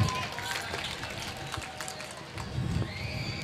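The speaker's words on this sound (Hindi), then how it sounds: "एक बार जोरदार तालियां बजा दीजिए।" An audience at a Hindi comic poetry recital applauds, giving a busy patter of clapping and crowd noise that swells again toward the end.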